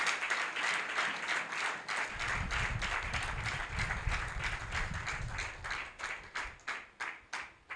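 A church congregation claps together during a Kinyarwanda and French service led by Prophet Alex. Quick, rhythmic applause builds, then thins into slower, spaced claps near the end.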